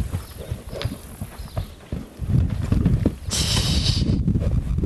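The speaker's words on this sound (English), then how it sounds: "So this is older gelding." An older green-broke gelding moves close by, its hooves clip-clopping in an uneven walking rhythm, with a brief brighter hiss near the end.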